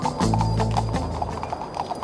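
Horses pull a stagecoach at a run, with steady rhythmic clip-clopping hoofbeats and a whinny near the start, close and fairly loud with no talk.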